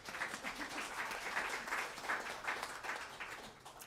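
An audience claps steadily for a few seconds, sounding as soft, even applause from across a room.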